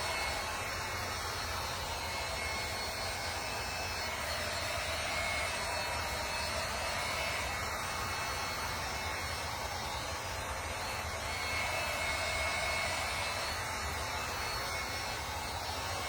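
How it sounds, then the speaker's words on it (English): A heat gun drying paint on a French provincial dresser, a steady, loud, continuous blowing roar that holds unchanged throughout. "I only have my heat gun out here"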